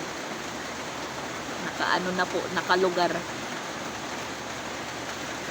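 Steady rain falls continuously outside a house, a broad even hiss running throughout while a person talks briefly over it in the middle.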